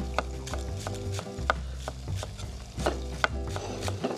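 A knife chops scallions on a cutting board in a kitchen, giving a steady series of quiet, sharp taps at close range, with no talk.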